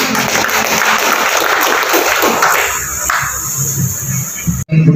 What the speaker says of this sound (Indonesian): kita berikan kesempatan dan aplaus dulu kepada Ketua Abdesi Kabupaten Bone